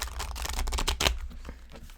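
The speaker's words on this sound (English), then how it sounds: "These are so hard to shuffle because they're so big." Oversized tarot cards are shuffled in a few quick riffling bursts, the crisp flapping close and clear with no talking over it.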